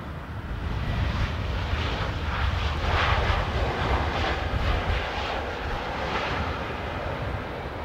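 A Lufthansa Airbus A321 airliner arriving at Dublin Airport in a crosswind, its jet engines a loud, steady roar that swells to a peak mid-way and then slowly fades, with no talk.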